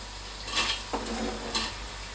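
Onion hitting hot olive oil in a pot for a spicy tomato and basil cream soup, a close sizzle with a couple of sharp stir and utensil knocks.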